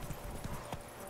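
Roach the horse galloping in The Witcher 3 video game, a quick run of hoof clip-clops in a steady rhythm, close and moderately loud over a constant background game ambience.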